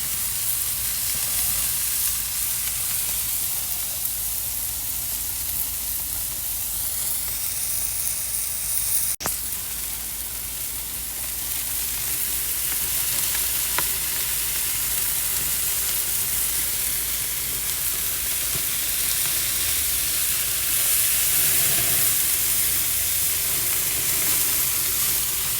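Bison and lamb burgers frying on a hot grill give off a steady, continuous sizzle and hiss, close and even, with one sharp click partway through and no talking.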